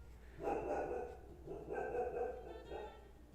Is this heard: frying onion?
no